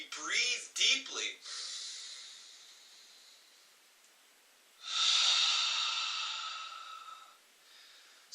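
Slow, deep breaths, first a few quick sharp inhales, then a long steady exhale and a second drawn-out breathy hiss, close and fairly loud with no talking.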